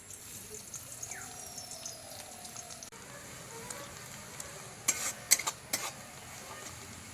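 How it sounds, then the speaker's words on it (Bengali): Chopped onion sizzles quietly in hot oil left from frying fish, a soft steady hiss, with a few brief clinks of a utensil toward the end. "মাছ ভাজার তেলে কুচনো পেঁয়াজ দিয়ে দিলাম"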